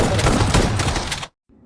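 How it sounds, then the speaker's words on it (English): Shotgun gunfire in the PUBG Mobile game: dense, loud blasts and rattling fire fill the first second or so, then cut off sharply, with only a faint low tail afterward. "force your enemy to jump using utility, then finish them off using the shotgun"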